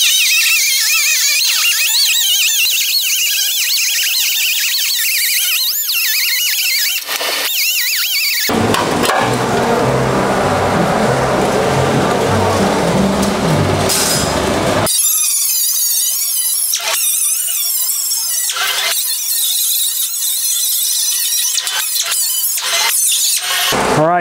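A power cutting tool slices through the sheet-metal flange of a VW Bug fender, starting as a shrill high whine, then a loud harsh grinding cut for several seconds, followed by intermittent whining bursts and short stops.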